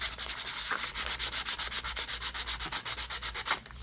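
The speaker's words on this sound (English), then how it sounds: "you can just take a little sanding paper." Sandpaper rubbing quickly back and forth over a shiny sticker, a close, rhythmic scratchy rasp of about twenty even strokes with no voices.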